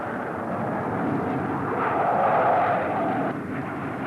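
Military transport and attack aircraft in flight, a loud, steady engine roar that swells toward the middle and eases off near the end, with no talk.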